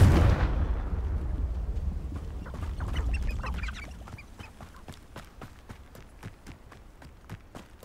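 A Confringo blasting spell explodes in Hogwarts Legacy: a loud, close, booming blast at the start that rumbles and decays over several seconds, followed by scattered sharp clicks and light footsteps.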